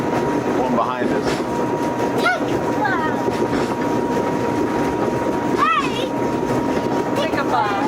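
Mountain train descending on rails near Lucerne, a continuous rumble and clatter of wheels with occasional squealing screeches from the track, steady and close throughout.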